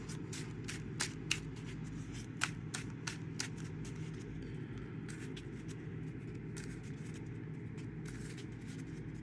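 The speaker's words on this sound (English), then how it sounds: "His cards are nice and shuffled." Marvel Champions playing cards are shuffled in a quick series of crisp riffles and snaps, heard near and clear over a steady low background hum.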